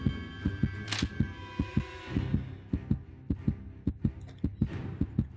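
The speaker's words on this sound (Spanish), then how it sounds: "El sonido del latido del corazón" A steady, rhythmic heartbeat from the RPG Maker horror game Misfiction thumps in regular double beats, low and muffled, over a faint background hum.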